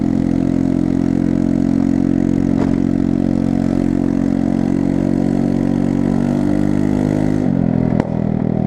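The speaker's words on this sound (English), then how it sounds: "I'm actually riding a motorcycle now" Motorcycle engine running while riding, a loud, steady low drone that holds even and then drops near the end, close and without voices.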